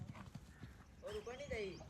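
A mare's hooves clip-clop in a steady rhythm close by, with a horse's whinny rising briefly near the end.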